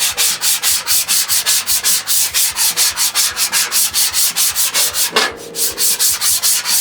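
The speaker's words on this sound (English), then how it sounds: "we're just basically gonna scrape away all of the gunk that's on the grill." A scraper works gunk off a rusted flattop griddle in steady, rhythmic back-and-forth strokes, loud and close, about four strokes a second with a brief hitch partway through.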